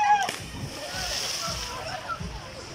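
River water splashes and sloshes as people bathe in a deep swollen river after a typhoon, soft repeated splashes at a moderate distance, with a brief high squeal near the start.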